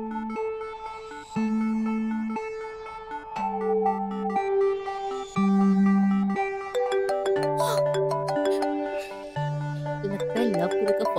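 A phone ringtone plays a repeating melodic tune of bright tones with low accompanying notes, loud and close, for about eleven seconds without any talk.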